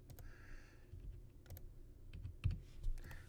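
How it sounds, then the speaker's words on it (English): Keys clatter on a computer keyboard as numbers are typed, a few sharp clicks in short irregular bursts, close and fairly quiet with no voices. "We're going to type those in here."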